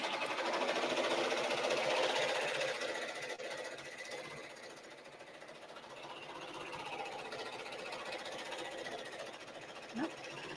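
A home embroidery machine stitches a design onto a baby onesie with a steady, fast mechanical whirr and rattle, close and continuous, dipping slightly midway before settling back.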